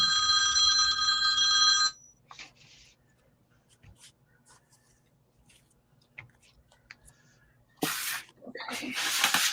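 A mobile phone rings with a bright, repeating electronic tone, loud and close for the first two seconds, then stops; light indoor rustling and handling noises follow before a harsh burst of noise near the end.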